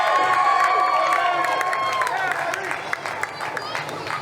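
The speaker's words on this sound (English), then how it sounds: "a little bit of applause he was getting from the addicts" At an MPX wrestling show, a small crowd claps and cheers loudly at first, then fades to scattered claps with a few sharp thuds from the ring, while a commentator talks over it.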